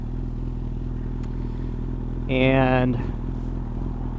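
A 1997 Suzuki Bandit 1200 motorcycle riding on a fall day, its engine a steady low drone with wind noise, briefly rising in a revving whine partway through; a single word is spoken.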